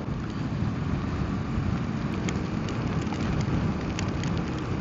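Steady, broad rain noise falls during a 2022 motorcycle tour through Romania toward the Austrian border, a constant close wash of patter with no voices.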